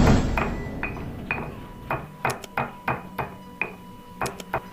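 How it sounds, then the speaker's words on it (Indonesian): Stone mortar and pestle (ulek) grinding spices for Sundanese fish pindang, a series of sharp, close knocks and clinks that come in an uneven rhythm and grow denser toward the end. "aku diulek sampai halus"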